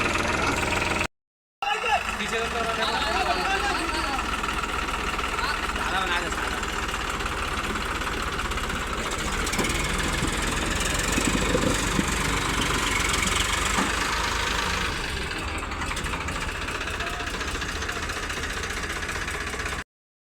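Farmtrac 60 tractor engine idling outdoors near a field, a steady low rumble with a mechanical knocking throb running continuously under occasional voices after a brief dropout at the start.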